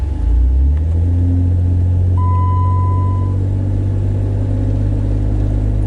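A 2006 Jeep Wrangler with a 42RLE automatic transmission problem pulls away from a stop in drive, its loud, close engine rumble rising in pitch as it accelerates and then holding a steady drone.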